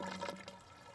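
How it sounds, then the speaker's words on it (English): Water pours and gurgles into the reservoir of a homemade self-watering plant pot, a short soft splashing rush that fades slightly over one second, close by and with no talk. "I'm pouring it through here"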